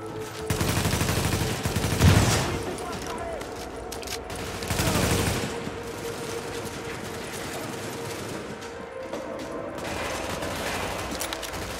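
Sustained automatic weapon fire from a machine gun in the co-op shooter game The Division. The fire is dense and continuous, with louder bursts near the start and midway, and a loud gameplay background runs throughout.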